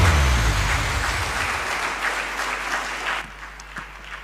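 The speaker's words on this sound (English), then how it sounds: "Please welcome with loud applause" Audience at a climate conclave in Indore applauding to welcome a professor, dense clapping already underway and gradually thinning out, with a low rumble at the start and the applause fading toward the end.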